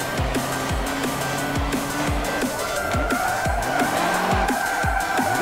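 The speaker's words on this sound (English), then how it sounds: "Let's see if we can get a drift a little bit better." A truck drifting in the Forza Motorsport 7 racing game, its tires squealing in repeated sweeping skids over a steady engine roar, loud and close, with no talk.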